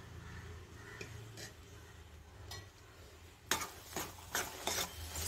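Ladu mixture with ghee stirred in a pan on a low flame: quiet, scattered scraping at first, then several louder, rhythmic scrapes of the spoon against the pan near the end.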